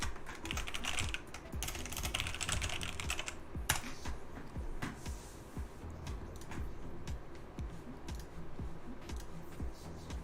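Rapid typing on a computer keyboard, a dense continuous run of close clicking keystrokes with a brief pause partway through; no talk.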